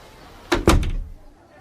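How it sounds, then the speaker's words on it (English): A door closes with a solid thunk, a quick double impact of latch and frame, close and fairly loud, followed by a brief fading room tail. "And the woman closed the door."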